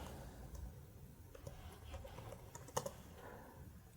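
Quiet, close computer keyboard typing while entering code, a soft irregular patter of keystrokes with one sharper click partway through.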